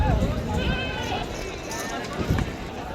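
Goats bleat amid a busy Sindhi goat market, the bleats thin and intermittent, mixed into steady crowd chatter and the shuffle of animals nearby.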